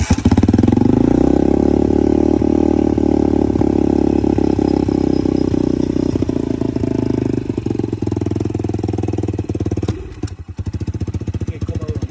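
A 150cc dirt bike's engine fires and runs close up, with a loud, busy idle and clatter that holds steady before dropping sharply near the end.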